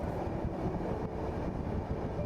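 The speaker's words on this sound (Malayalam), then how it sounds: "ട്രെയിൻ വരുന്നുണ്ട് കേട്ടോ, കണ്ടോ?" A passing train rumbles with a steady low roar and rattle, heard from inside a moving long-distance express train, continuous and fairly close, with no voices.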